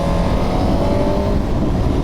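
Motorcycle riding along a country road in fine weather, giving a steady, loud roar of engine and wind that runs unbroken and close throughout, with no voices.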